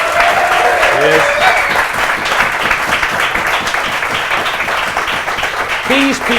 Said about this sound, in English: I would love a very warm round of applause for Andy Heaton, for Rob Gutman, and for Gareth Roberts.